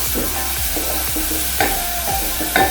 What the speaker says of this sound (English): So as the carrots cook